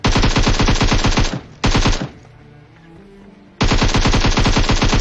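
Loud, close Uzi gunfire in the PUBG video game: two rapid full-auto bursts, a short lull with faint background noise, then another sustained burst of shots.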